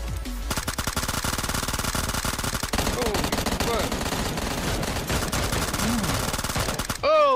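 Sustained automatic gunfire in PUBG Mobile, loud rapid bursts rattling almost continuously for several seconds before cutting off, with no talk over it.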